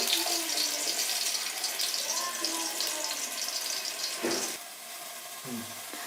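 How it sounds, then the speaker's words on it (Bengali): Potato pieces fry in oil until reddish-brown while making a mutton curry, giving a steady, close, watery hiss. It thins out near the end with a couple of soft knocks and no talking. "আমি আলুটাকে একটু লাল লাল করে ভেজে নেব।"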